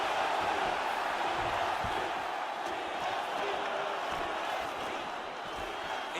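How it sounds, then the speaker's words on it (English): Dense UFC arena crowd at a welterweight title fight, a constant loud roar of many voices swelling and dipping as strikes land, with no clear individual speech on top. "you hear the crowd react every time they come together"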